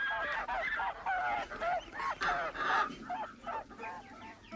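Farmyard poultry, geese among them, honk in a run of loud, overlapping bursts, scattered in panic as the farm dog chases them, continuing without pause.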